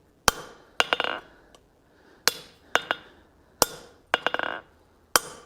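A hammer rings sharply on hot steel at an anvil while a ram's head is forged, with single blows and quick bouncing double and triple strikes coming in an uneven rhythm, close and crisp in a quiet shop.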